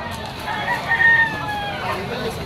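A stag rooster crows once amid a busy outdoor poultry market in Malabon, the call rising over crowd noise and nearby talk.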